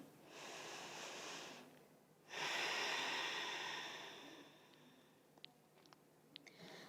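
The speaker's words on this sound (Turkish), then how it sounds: "Tekrar nefes al burnundan." Two long, close nasal breaths drawn in during a yoga session, soft and airy, the second fuller and longer, followed by a quiet pause with a few small clicks.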